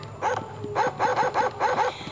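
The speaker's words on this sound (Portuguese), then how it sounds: "O ruim do cachorro é que ele só pode latir." A dog in a multiplayer video game gives a rapid string of about eight short, close, nasal barks in quick bursts, with no voices over them.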